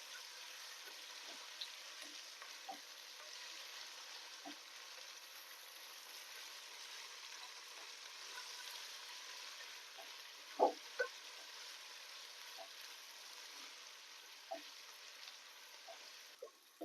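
Two spoons of ginger garlic paste fry in a pan for dal khichdi, giving a soft, faint, continuous sizzle with occasional light stirring taps.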